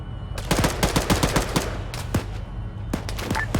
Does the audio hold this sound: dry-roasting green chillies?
no